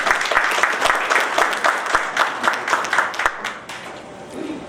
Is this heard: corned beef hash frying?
no